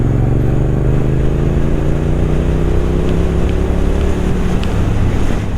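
A Triumph Bonneville Street Twin (2020) motorcycle rides steadily in third gear, its engine drone continuous and loud under heavy wind rush across the microphone.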